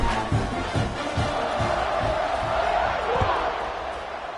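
A football stadium crowd at kickoff of a Notre Dame versus SMU game sends up a broad, distant roar, with a few dull thumps beneath the swelling cheer.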